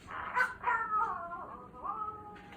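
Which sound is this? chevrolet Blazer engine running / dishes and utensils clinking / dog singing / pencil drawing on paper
dog singing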